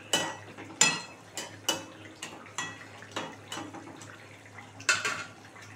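A spoon scraping and knocking through Desi Koi fish curry in a pan, a series of distinct clanks and scrapes at an uneven pace with a steady low hum underneath, with no talking.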